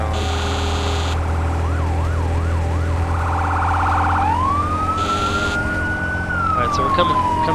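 A fire engine siren in the video game Firefighting Simulator: The Squad wails loud and close, cycling through rapid yelping warbles and a long rising-and-falling tone over a steady engine drone, with short horn-like bursts.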